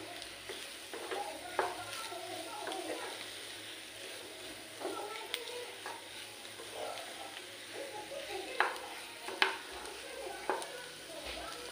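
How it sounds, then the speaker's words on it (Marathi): Potato curry, yellow bhaji of the kind eaten with puri, is stirred in a pan, a soft sizzle with scattered scraping spoon knocks running throughout, moderately quiet and close, with no speech. "पुन्हा बघा, मिक्स करून घ्यायचं भाजीला।"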